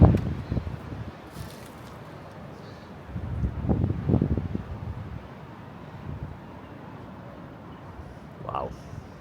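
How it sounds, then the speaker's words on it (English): Strong wind buffets the microphone in gusty rushes at a hilltop viewpoint in Prachuap Khiri Khan, Thailand, with someone speaking now and then over the blustery roar. "It wasn't as windy as this"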